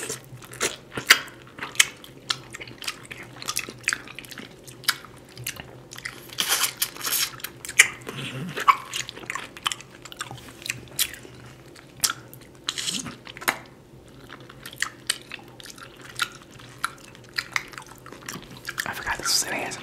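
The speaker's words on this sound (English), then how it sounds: "I'm supposed to be chewing on the mic" Close-miked ASMR chewing and biting into various fruits such as mango, with wet crunches, squishy bites and mouth sounds scattered irregularly, interspersed with quiet murmured talk.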